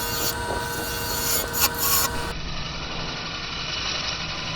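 Steady mechanical whirring and rubbing of a power tool trimming down a wooden owl carving, loud and continuous throughout, with a brief bright scraping burst partway through.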